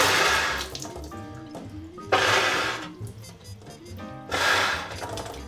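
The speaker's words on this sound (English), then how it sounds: "the water is going to start coming out through the lead pipe, like this" Water sputters and gushes out of a trumpet's lead pipe as air is blown through with the valves pressed, three loud bursts of rushing, gurgling water separated by quieter gaps, close by and without talk.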